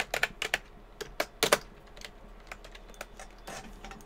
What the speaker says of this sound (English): Oops, I typed it wrong.